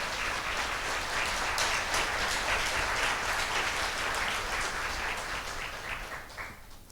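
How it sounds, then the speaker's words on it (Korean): An audience claps steadily at an installation ceremony, a dense, even round of applause that holds for several seconds and fades slightly at the end. "박수를 한번 보내드릴까요?"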